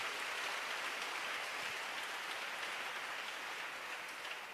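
A church congregation applauds together in praise after a testimony of healing, a dense, steady wash of clapping sustained throughout without pauses.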